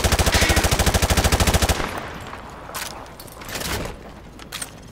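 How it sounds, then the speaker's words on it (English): Rapid automatic gunfire in the shooter game Call of Duty: Modern Warfare Remastered, fired through light cover: a fast, loud burst of evenly spaced shots, followed by scattered clinks and thuds. "Remember that certain weapons can penetrate and hit your target."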